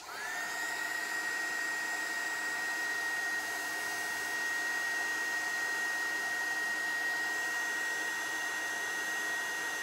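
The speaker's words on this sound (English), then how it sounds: "So let's turn on the heat gun." A heat gun runs continuously to speed up a rust activator, giving a steady, even blowing whine at constant level from start to finish.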